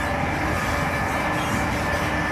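A passenger train travelling at speed toward Penarth in South Wales, heard from inside as a loud, continuous rumble and hum with faint rhythmic wheel clatter and a high tonal whine, steady and without talk.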